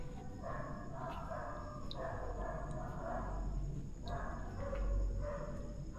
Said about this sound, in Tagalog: Ang dami aso dito.